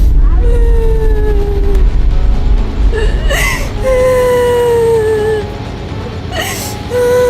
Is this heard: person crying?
yes